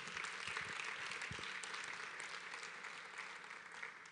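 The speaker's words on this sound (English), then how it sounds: "I thought we'll give ourselves a round of applause." Audience applause at a pre-departure orientation event, a dense steady wash of many hands clapping that carries on throughout at moderate loudness, with no talking over it.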